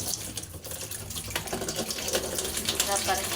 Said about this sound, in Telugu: తెల్లగా మామూలుగా నీళ్ళు వస్తున్నాయి